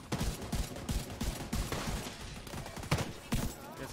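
Gunfire bursts in the video game The Division 2 come in rapid, uneven cracks, with several sharp shots cutting through a busy mix of noise.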